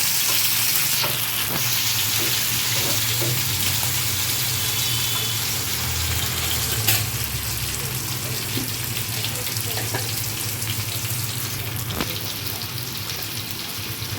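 Tomato goes into a pan of fried onions while prawn masala is being cooked. A loud, constant, rain-like sizzle fills the whole clip, broken only by an occasional clatter of a utensil.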